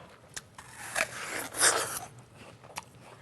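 A crisp crunch from biting into a firm NongHyup Black Label apple, with a few smaller crackly chewing sounds around it, close and fairly quiet.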